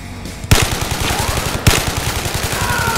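An AK-47 in ZeroCaliber VR fires in rapid automatic bursts, loud and close. One burst starts, a second sharp onset follows about a second later, and the steady rattle runs on to the end.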